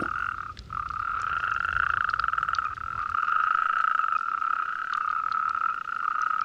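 Male Spanish toads calling in a pool, forming a loud, continuous trilling chorus that holds steady throughout with no voices.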